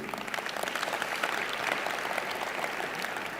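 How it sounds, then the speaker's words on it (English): An audience at a sports ambassadors awards event breaks into a big round of applause, loud, dense clapping sustained throughout with crisp individual hand claps rising above the wash. "give them a big round of applause."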